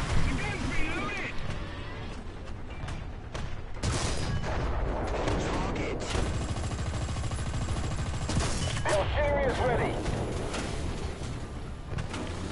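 Shots strike the player's vehicle in War Thunder amid rumbling engine noise and scattered gunfire, with loud impacts and bursts spread unevenly throughout and a voice talking over the battle.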